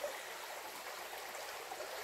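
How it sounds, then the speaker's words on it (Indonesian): A clear river stream flows steadily with a soft, continuous broadband rush of water, even and unbroken throughout, heard alone without voices. "karena air sungai itu sangat bersih di sini"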